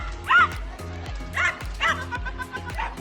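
A dog chasing a monkey riding a bicycle lets out repeated short yipping barks and whimpers in quick bursts, close and fairly loud over a low rhythmic rattle.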